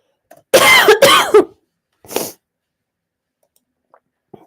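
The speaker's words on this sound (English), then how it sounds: "sorry for coughing into the whatchamacallit." A person coughs twice in a quick, close pair, followed by a softer single cough a moment later, then near silence.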